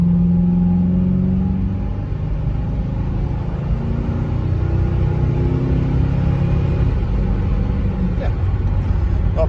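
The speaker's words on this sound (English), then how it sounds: "I'll do an acceleration here, see if we can get it." A Crown Victoria fitted with Excelerator turbo mufflers accelerating, a loud, continuous low engine rumble that rises steadily in pitch from inside the car.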